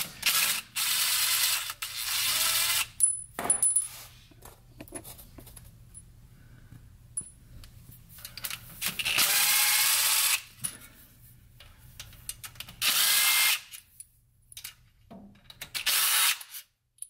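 Ratchet loosening and backing out bolts on a Ford Explorer 5R55W transmission pan, bursts of rapid clicking ratchet strokes separated by quiet pauses, close and fairly loud.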